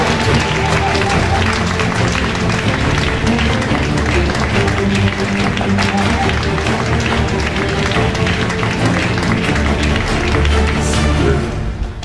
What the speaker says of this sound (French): Sous nos acclamations, nous invitons Papa Justin qui va présenter.